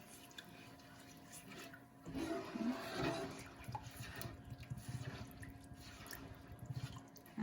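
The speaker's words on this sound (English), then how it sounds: "I'm gonna go ahead and put the Las Palmas green enchilada sauce." Las Palmas green enchilada sauce pours from the can into a cooking pan in a home kitchen, a steady wet glugging and splashing that runs for several seconds at close range with no talk over it.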